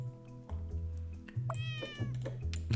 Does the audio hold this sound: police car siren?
no